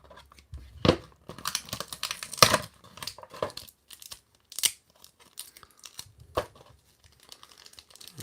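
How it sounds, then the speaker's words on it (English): Packaging tape on a Green Teela Origins toy box being cut through, giving close crinkling and tearing bursts with scissor snips, irregular and moderately loud with quiet gaps between. "They are taped in there, so we'll just cut through that tape"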